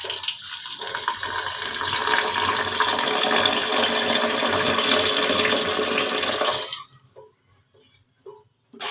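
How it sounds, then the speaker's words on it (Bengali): Tap water runs in a loud, steady rush over small fish being soaked in a kitchen, then cuts off abruptly, leaving faint clinks and drips in a quiet room. "মাছগুলো আমি ভিজিয়ে দিই"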